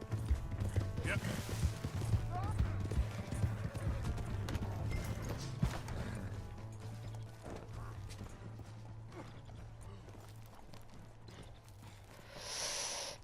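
Galloping horse hooves in Red Dead Redemption 2 pound in a steady, fast rhythm, close and fairly loud, over a low rumbling game soundscape with scattered clatter.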